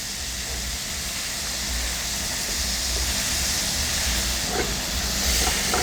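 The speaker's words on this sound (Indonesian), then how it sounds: "Kita goreng sampai warnanya berubah kuning kecoklatan, atau terkadang disebut juga golden brown." Battered chicken fries over high heat in a pan of hot oil, giving a steady, loud sizzle and hiss that runs unbroken with no talking.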